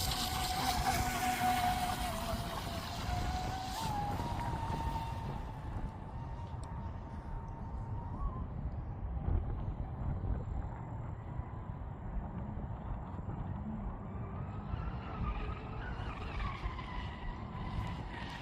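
A ProBoat Blackjack 24 6S RC speedboat with a 4019 three-blade prop running at half throttle on open water, its high motor whine rising and falling as it passes at a distance, steady and moderately loud.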